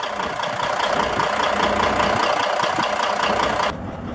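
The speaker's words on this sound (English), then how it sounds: "535 horsepower Volvo D16 engine" The 535-horsepower Volvo D16 diesel in a 2007 Volvo VNL64T-730 truck idles with a steady, loud, close rumble that drops in level near the end.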